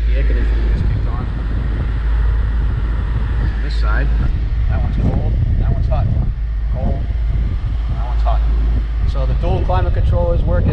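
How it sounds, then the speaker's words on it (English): Steady blowing hum of the air conditioning fan running inside a Ford Mustang GT with dual climate control, with people talking over it throughout. "it feels like the air conditioning just kicked on"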